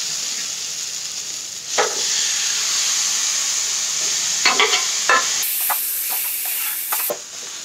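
Chickpeas tipped into frying masala for Pindi chole, then stirred: a steady hiss and sizzle broken by several scraping spoon strokes, close up and without talk.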